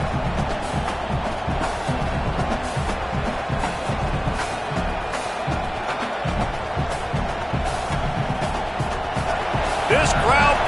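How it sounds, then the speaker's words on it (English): A roaring stadium crowd in a college football video game, a dense, continuous wall of cheering and noise with sharp thuds and whoops, running under a commentator's voice throughout. "This crowd bringing the energy and noise early."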